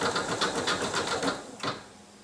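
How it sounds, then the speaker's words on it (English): An embroidery sewing machine stitches through fleece with a rapid, evenly spaced mechanical tapping close by, then slows and stops with a brief clunk, leaving a faint hum. "I'm just going to stop the machine from stitching"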